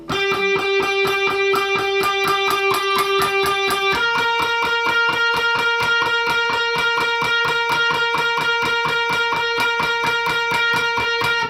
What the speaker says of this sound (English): So the intro just sounds like this